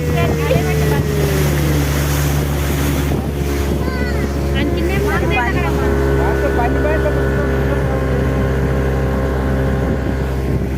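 A motorboat on a lake gives a loud, steady engine drone with heavy wind buffeting the microphone, and people talk over the constant roar.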